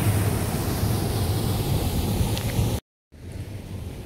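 A waterfall pouring over large rocks gives a steady, dense rushing roar, loud and continuous, broken by a brief cut to silence before resuming.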